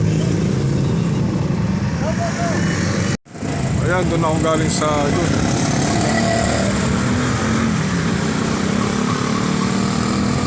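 Small vehicles drive along the Mindanao Avenue extension, giving off a steady engine drone with a revving motorbike passing, as someone talks over the traffic noise and the recording cuts out briefly partway through.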